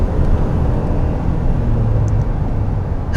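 A 2021 Ford F-150 Hybrid pickup merges onto a highway, heard from inside as a steady, loud low rumble of engine and road noise with no talking.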